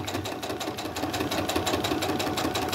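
A sewing machine runs continuously, stitching around the raw edge of a crazy crumb quilt block, a close steady motor hum with fast rhythmic needle chatter throughout.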